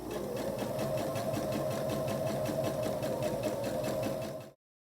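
A sewing machine runs continuously while quilt block fabric pieces are chain-pieced through it, a fast, even mechanical clatter close by that stops abruptly near the end.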